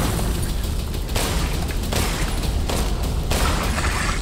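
Rapid, dense gunfire in Resident Evil Village: Shadows of Rose, loud and continuous with booming blasts in repeated bursts and no talking.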